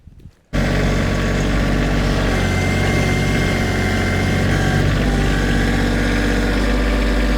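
A loud, steady tractor engine idling close by, low rumbling drone starting abruptly after a brief quiet moment and continuing evenly.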